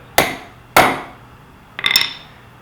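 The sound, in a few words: hammer tapping center punch on rivet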